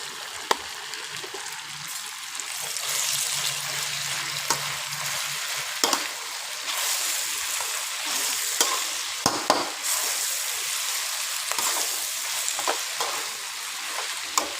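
Chili and basil leaves stir-fried in a pan for a Thai spicy stir-fry, giving a continuous bright sizzle broken by sharp scrapes and clicks of the spatula, close up with no talk.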